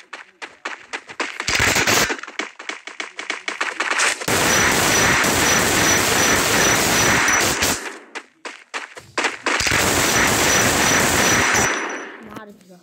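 Video game shotgun gunfire in rapid bursts, loud sustained volleys broken by quick single shots and short pauses.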